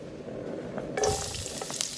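Chopped garlic dropped into hot canola oil in a home kitchen pan bursts into a sharp, close sizzle that swells at the moment it lands and keeps crackling steadily afterward.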